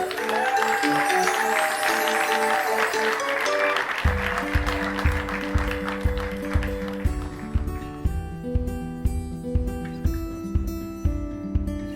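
Steady rhythmic hand claps keep time with a bouncy children's song in an art show for kids, the claps entering partway through and repeating evenly to the end alongside the music.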